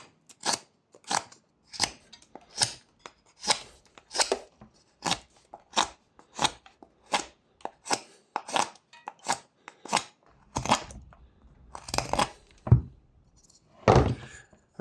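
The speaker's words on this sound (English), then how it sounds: "you could do this with a saw, but I'm just going to do it with my roughing knife" A roughing knife carves wood in a steady series of crisp, close cutting strokes, about one every half second, then a few slower, heavier cuts near the end, with no talking.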